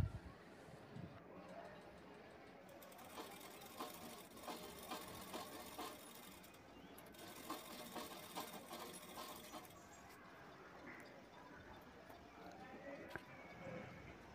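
A sewing machine stitches fabric for a potli bag, running in a fast continuous whir with brief pauses and a few clicks, heard faintly.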